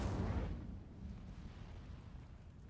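Incendio fire spell cast in Hogwarts Legacy, a short whooshing burst of flame at the start that quickly dies into a low, faint rumble.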